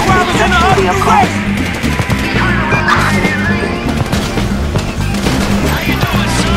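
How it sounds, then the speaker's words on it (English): Dense gunfire in the Grand Theft Auto V Paleto Bay bank heist mission, with rapid bursts and shots ringing out continuously over a loud, busy game soundscape with music-like layers throughout. "You hear that gunfire?"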